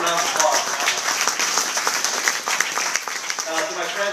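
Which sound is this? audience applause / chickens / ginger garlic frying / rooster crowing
audience applause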